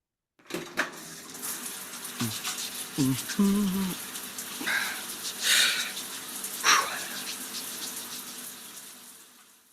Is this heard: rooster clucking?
no